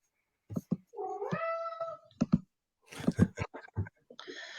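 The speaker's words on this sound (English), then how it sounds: "Did you hear my cat?" A house cat lets out a long, drawn-out meow, followed by a few shorter chirps and sounds of movement, heard close and clear against near silence.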